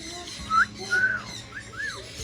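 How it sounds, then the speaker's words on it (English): Wild parrots on a mountainside give four short whistled calls, each a quick rising or falling note, fairly faint and spaced apart over quiet open-air background with no talking. "Somebody whistled. I heard a whistle."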